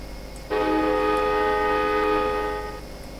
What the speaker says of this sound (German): Das gute Nebelhorn an der Lok, die Hupe.